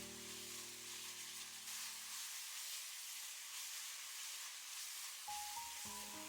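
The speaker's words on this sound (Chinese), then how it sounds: "继续翻炒，炒出酱香味" Minced pork is stir-fried in a wok with pepper, soy sauce and oyster sauce, giving a faint, continuous sizzling hiss beneath soft background music tones.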